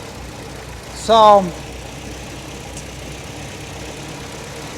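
An MGB engine idling after warming up to full temperature, a low, even rumble running throughout, briefly covered by a short spoken word.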